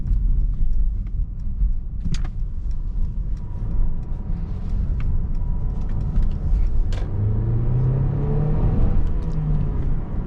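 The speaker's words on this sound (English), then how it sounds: "Now let's go ahead and throw it into Sport Plus mode, make this right turn, see how fast we can get up to speed." A 2-liter turbocharged four-cylinder Mercedes-Benz GLC300 4MATIC in Sport Plus mode accelerates out of a right turn. A steady, loud engine rumble builds, with the pitch rising smoothly as the car picks up speed, heard from inside the cabin.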